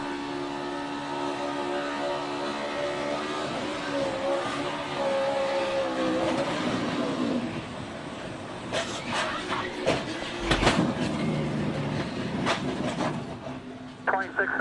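Onboard a race car driven by Sam Hornish in the Daytona Duels: a loud, sustained engine drone with shifting pitch, then sharp bangs and thumps near the end as the car gets hit in the right rear.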